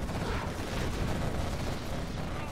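Dense, continuous rapid fire from a quad cannon in Command & Conquer Generals Zero Hour, a loud unbroken barrage of blasts with no talking.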